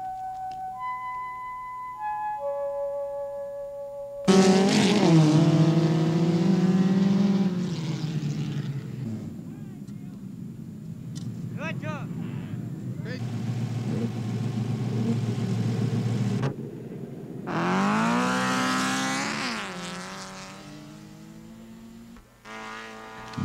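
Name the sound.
off-road cars racing around in the desert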